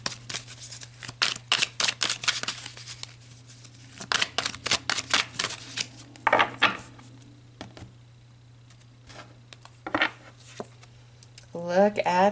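Tarot cards being shuffled by hand up close, with quick bursts of crisp riffling and tapping clicks spread through the clip and a voice speaking between them.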